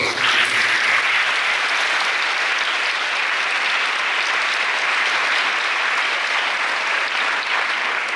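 Sustained applause from a large church gathering at a festival in Gowripatnam, a dense, steady wash of clapping held for several seconds.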